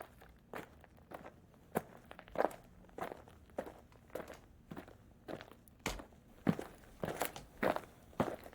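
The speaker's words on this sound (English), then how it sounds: "it sounds like she's got some like gnarly leather boots on or something like that" Footsteps of heavy leather boots, pitch-shifted for sound design, give a steady, close series of crunchy, creaking steps at a walking pace, quiet overall with some louder footfalls toward the end.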